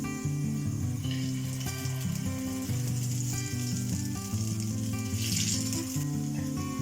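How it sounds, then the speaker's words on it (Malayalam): Pieces of honey garlic chicken, marinated, shallow frying in hot oil, a steady, dense close-up sizzle that continues without pause, with no voices. "അപ്പോൾ നമ്മുടെ ഓയിൽ ചൂടായി ഇതൊക്കെ ഒന്ന് നമുക്ക് ഷാലോ ഫ്രൈ ചെയ്തെടുക്കാം"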